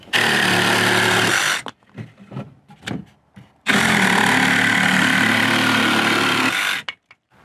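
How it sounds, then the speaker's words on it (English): Jigsaw cutting through lumber in two loud, steady buzzing bursts of about a second and a half and three seconds, separated by brief clatter and handling noises. "So we'll just cut it with a jigsaw here."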